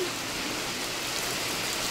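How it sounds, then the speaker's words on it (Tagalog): Rain falls in bad weather, an even, constant wash of drops that stays at the same level throughout and has no talking over it. "Ulan na naman."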